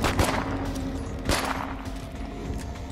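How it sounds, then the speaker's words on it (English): Dense, continuous gunfire from a zombie-survival video game, State of Decay 2, with rapid overlapping shots and bursts forming a steady loud wash that peaks in two stronger volleys. "Yeah, guys, keep shooting them."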